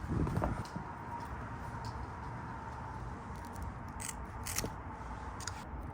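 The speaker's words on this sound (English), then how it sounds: "we're just gonna cut 2 pieces for each of the T-harnesses" Scissors cut split loom tubing for a GM truck DRL T-harness, giving a few soft snips and a brief crunchy cut near the start, then a low steady rustle of handling with scattered light clicks; no talking.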